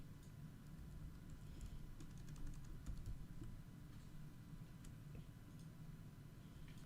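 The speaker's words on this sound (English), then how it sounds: "we have to type whatever file name I want to use" A computer keyboard being typed on to enter a file name in a Unix/Linux terminal, giving faint, scattered key clicks in a soft, irregular run over a quiet background hiss.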